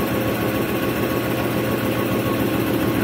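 An electric motor added to drive the hydraulics of a knuckleboom crane runs with a steady, dense hum and whine that stays even and fairly loud throughout, with no pauses.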